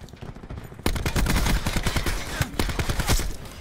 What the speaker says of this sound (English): I had three guys shooting at me